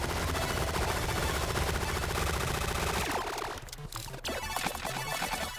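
Rapid, continuous gunfire from Relic Hunters sprays for about three seconds, then breaks into scattered shots and clattering game noise.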